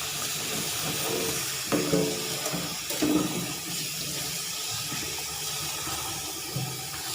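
Water running and splashing steadily in a basin as fragrant rice paddy herbs are left to soak, a continuous hissy wash of sound with a few louder splashes.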